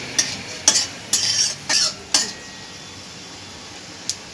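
Bay leaf, dried chili and panch phoron fry in hot oil in a pan. A close, crackly sizzle comes in several short bursts of stirring with spoon scrapes, then settles to a faint hiss.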